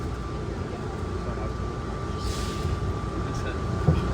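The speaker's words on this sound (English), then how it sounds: "This train is departing." An airport people-mover train at Atlanta airport departing, a steady rumbling hum with a sustained electric whine and a brief rising hiss midway, heard from inside the car at moderate level.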